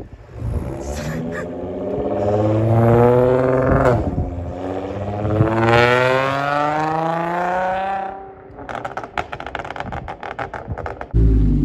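An Audi S5 fitted with an AWE exhaust and JHM downpipes roars close by as it downshifts, the engine note sweeping up and down in pitch for several seconds before dropping to a rougher, crackling idle.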